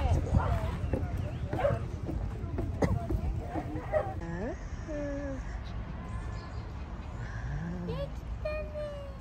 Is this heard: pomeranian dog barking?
yes